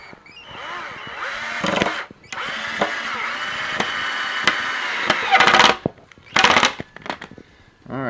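A cordless drill drives screws into the wooden frame of a raised garden bed, whirring in long and short bursts with clicks and knocks in between, close by and loud.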